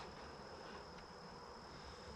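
Honeybees hum around an open beehive during an inspection, a faint, steady buzzing drone with no break and no voices.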